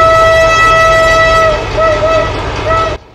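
A loud, sustained S35 train horn on a D301 locomotive in Trainz Simulator blares close by for about three seconds, its pitch dipping briefly before it cuts off abruptly.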